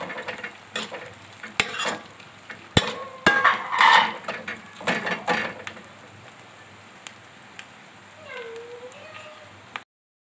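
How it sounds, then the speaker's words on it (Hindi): Garlic and chopped ginger fry in a pan for keema, a light sizzle under repeated scraping and clattering stirs from a spoon, busy at first and then easing to a quieter fry. "अब फिर इसमें डालूंगी मैं ये अदरक कटी हुई, थोड़ा सा इसको चलाएंगे"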